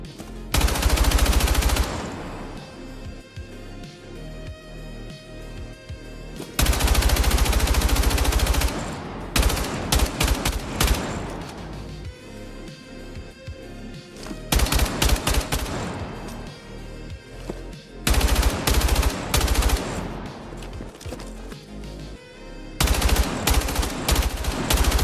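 Automatic and single gunfire in the video game Battlefield 6 comes in loud, dense bursts separated by short quieter gaps, rapid rattling volleys recurring across the stretch with no talk.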